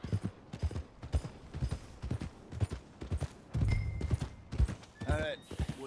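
Horse hooves clip-clop in a steady run of soft thuds in Red Dead Redemption 2, moderately close, with the horse's gait heard alongside game sounds and a brief whinny-like tone near the end.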